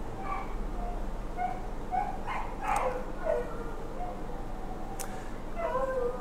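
A small dog yaps and whines in short, faint, high-pitched bursts scattered across the clip, set against a steady background hum in a church service setting.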